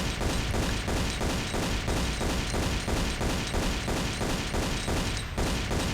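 Rapid, evenly spaced gunfire in a Tomb Raider level, with shots ringing out in a steady loud rhythm for the whole span and no speech over them.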